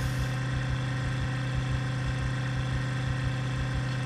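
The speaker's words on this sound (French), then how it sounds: "cette bagnole elle fait un putain de bruit quoi" A car engine in Project Zomboid runs steadily at a low, constant idle-like drone with a pulsing rumble, loud and continuous throughout with no speech.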